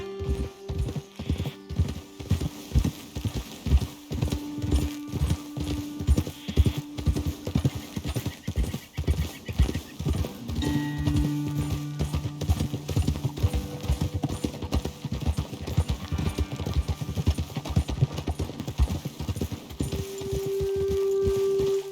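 Horses gallop in Red Dead Redemption 2, a steady rapid clip-clop of hooves running throughout, with occasional whinnies and game ambience mixed in, no talking.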